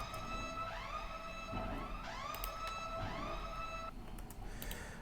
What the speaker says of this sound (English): We have here a siren effect.